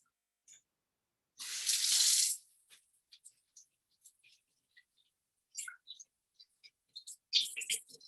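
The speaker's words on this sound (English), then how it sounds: "I'm just gonna wash my hands really quick" Hands are washed at a sink under a running tap: one short burst of gushing water, followed by scattered small drips, splashes and clicks in an otherwise quiet room.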